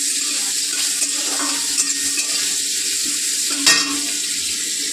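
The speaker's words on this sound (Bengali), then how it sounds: "তো চলো, সর্ষে আর লঙ্কা ফোড়ন দিয়ে দেবো।" Tomato frying in oil in a kadai with a mustard seed and chili tempering, a loud steady sizzle with occasional stirring scrapes, close up.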